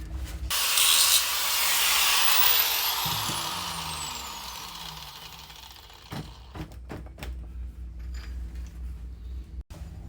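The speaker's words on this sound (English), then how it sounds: "So now let's grind this part down." Grinder working down a welded spot on a key part, a hissing, whining grind for several seconds that winds down into scattered light taps and clicks, no talk.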